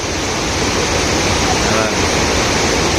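Water spills steadily at a small waterfall where fish gather in the pool below, a dense, constant close-up splashing roar filling the scene with no pauses.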